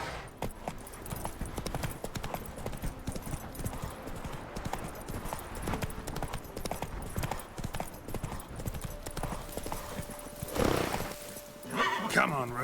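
Roach the horse gallops in The Witcher 3, hooves drumming in a steady fast rhythm, with a loud neigh near the end and game voices speaking over it.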